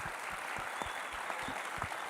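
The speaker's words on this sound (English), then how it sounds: "let's applaud our guests" An audience at a university space festival applauds guests on stage, a steady, fairly faint wash of clapping lasting a couple of seconds.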